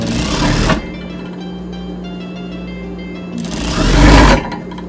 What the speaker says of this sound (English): I'm using an industrial machine